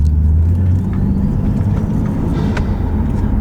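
Toyota Supra with an automatic gearbox, heard from inside while driving: a loud, steady low engine rumble and road drone, alone with no talk.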